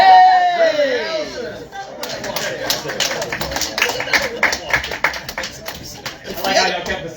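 Scattered audience clapping in a small stand-up comedy club as a comedian is brought on, a thin ragged patter of hands following a loud voice, with some chatter mixed in.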